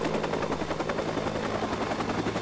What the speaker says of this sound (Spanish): tengo que tener cuidado con el helicóptero también